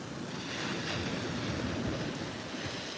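Strong ocean waves surge and crash continuously close by at night on a fishing shore, a steady loud roar of surf mixed with wind buffeting the microphone.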